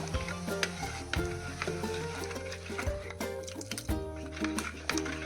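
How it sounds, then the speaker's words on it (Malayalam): A spoon scrapes and stirs through thick pulinkari curry in a metal pressure cooker, with repeated clanks against the sides over a steady low hum. "ഇത് തുറന്നിട്ട് നല്ലോണം ഇളക്കുക."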